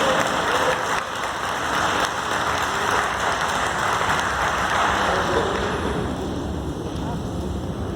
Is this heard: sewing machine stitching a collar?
no